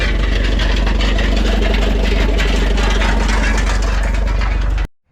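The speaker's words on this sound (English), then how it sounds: "Good sounding tractor." A John Deere tractor engine drives a grist mill at a farm heritage show, chugging loudly and evenly at a steady idle-like pace up close before cutting off abruptly.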